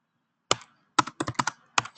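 Several close, crisp keystrokes on a computer keyboard while code is typed into a web page template, arriving in short irregular clusters with brief gaps.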